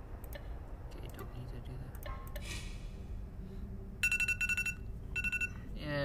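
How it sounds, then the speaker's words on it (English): A shower alarm on a phone or clock beeps in quick repeated bursts near the end, faint under background noise, with a person talking nearby. "that's my shower alarm"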